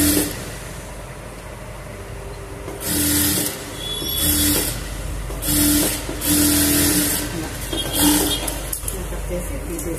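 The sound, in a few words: sewing machine stitching fabric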